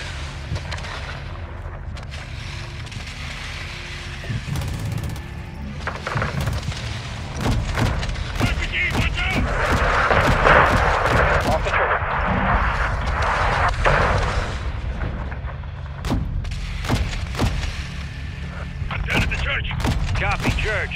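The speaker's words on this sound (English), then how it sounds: "we're taking RPG fire from the east" Battlefield combat in Call of Duty Modern Warfare II on PS5, with RPG fire and gunfire: repeated sharp gunshots and booms over a continuous rumbling mechanical drone, building to a dense, loud stretch of fire midway, with voices beneath.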